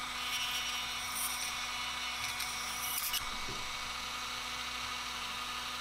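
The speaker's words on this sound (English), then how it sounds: "I'm gonna put the Dremel away" A Dremel rotary tool hollowing out a wooden fishing lure gives off a steady, high-pitched motor whine with a constant hum, running close and unbroken for the whole stretch, with a few brief grinding bursts.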